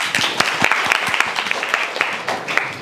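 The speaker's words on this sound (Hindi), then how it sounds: "ताली बजाइए" Schoolchildren in a village government school classroom clap together, a loose burst of sharp, distinct hand claps with uneven rhythm, close and fairly loud.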